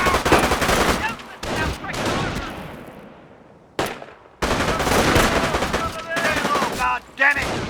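Squad rifle and machine-gun fire in the Company of Heroes video game: loud, close bursts of rapid shots, one long burst trailing off into a decaying echo, then renewed volleys.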